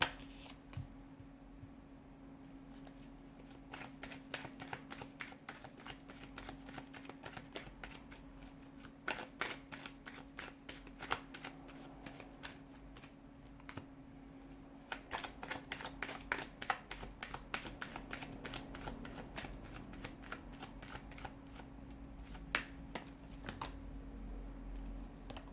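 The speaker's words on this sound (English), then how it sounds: "let's go ahead and give the cards a shuffle" Tarot cards are shuffled by hand for most of the span, a steady patter of quick riffling flicks with a few louder snaps, close and fairly quiet, over a low steady hum with no talking.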